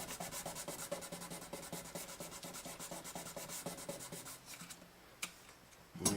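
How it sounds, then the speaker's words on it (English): Sandpaper of 2000 grit rubbed over a guitar fretboard in quick, even back-and-forth strokes, a close, rhythmic scratchy rasping that slows and stops near the end. "I'm switching to 2000 grit paper right here now."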